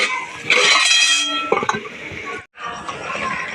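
A metal lid clinks and scrapes off a pot of simmering taro leaves, with a short clatter of cookware followed by a bubbling, hissing pot, all fairly close.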